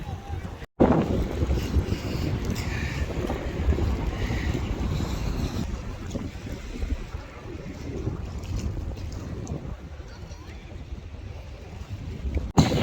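Waves splashing against the water near a boat in gusty wind, a continuous rushing roar with heavy low wind buffeting on the microphone, close and fairly loud, with someone talking over it.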